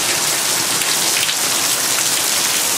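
Heavy rain pours onto a balcony during the rainy season in Chiang Mai, Thailand, a dense, loud, unbroken hiss of drops beating on hard surfaces with no voices.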